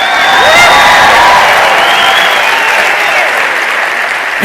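Loud, dense audience applause at a church sermon, sustained clapping with scattered cheers and whoops rising over a few seconds and holding steady throughout.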